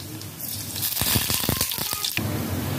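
Black cumin seeds dropped into hot mustard oil in a kadai give a close, brief burst of sizzling and crackling pops that lasts about two seconds and then dies back, with no talking.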